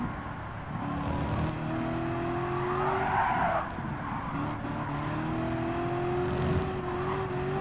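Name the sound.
race cars driving in video game Gran Turismo 7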